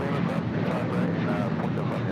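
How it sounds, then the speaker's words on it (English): An American Airlines Boeing 737-800 departs LAX with a sustained jet engine rumble and whine, steady and fairly strong over the short stretch. "That was American 335 departing to Phoenix on a 737-800."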